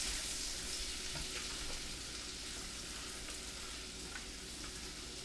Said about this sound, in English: we're gonna let this onion saute for a little bit, let it sweat, and it's on low